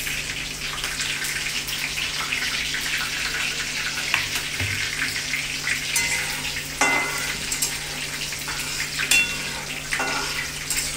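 Curry leaves hit hot oil alongside roasting green chilies for poha, giving a steady, close sizzle with bright crackles and occasional pops throughout.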